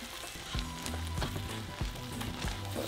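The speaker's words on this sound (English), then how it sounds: "So smash your beans." Hot beans with onion, garlic and chiles being mashed in a frying pan, a soft constant sizzle broken by several dull, rhythmic thuds of the masher pressing into the pan.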